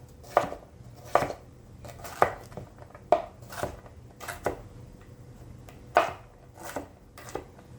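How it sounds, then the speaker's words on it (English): Knife chopping broccoli stems into chunks on a cutting board, about a dozen sharp, uneven thuds spaced roughly half a second apart, close and alone. "So I'm just chopping them down into chunks."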